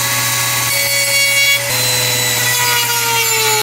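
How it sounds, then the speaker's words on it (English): A Dremel rotary tool with a metal cutting bit cuts into a Ford Focus ST air box: a loud, steady high-pitched whine with a buzzing edge runs continuously for several seconds, dipping slightly in pitch under load before cutting off abruptly. "Now the tool that I'm using to make my cut is a Dremel with a metal cutting bit on it."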